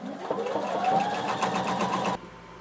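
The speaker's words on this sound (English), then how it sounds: "we're going to sew, making sure our needle is 5/8 of an inch away from the folded edge" A sewing machine stitches a 5/8-inch hem along the folded edge of a fabric sleeve, a close, steady mechanical whir of rapid needle strokes that cuts off abruptly near the end.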